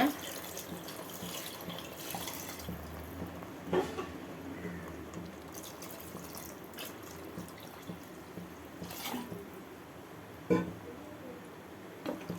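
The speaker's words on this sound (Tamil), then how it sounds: "ஒரு 1/2 லிட்டர் தண்ணி ஆட் பண்ணிக்கோங்க." Half a liter of water poured into a pot of goat offal curry before pressure cooking, a steady close splashing flow with a few brief knocks.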